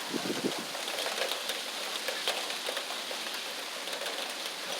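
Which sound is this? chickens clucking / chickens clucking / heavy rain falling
heavy rain falling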